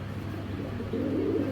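A pigeon, a high-flying breed kept by a fancier, gives a soft, low coo close by that swells slightly toward the end of the brief moment, with no talking.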